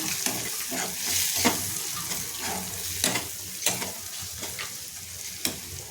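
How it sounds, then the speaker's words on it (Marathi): Spices stirred into cooked tomato in a frying pan: a steady sizzle with a spoon scraping and tapping the pan at irregular intervals, close and moderately loud. "त्याच्यामध्ये मी इथे धने जिरे पावडर टाकून घेते हळद एक चमचा मसाला आणि गोडा मसाला हे व्यवस्थित मिक्स करून घ्यायचे आहेत"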